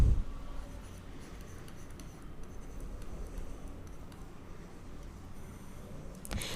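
Pen or marker scratching steadily across a surface as short notes are written during a biology lecture on breathing, a continuous close, soft rubbing texture with no talk over it.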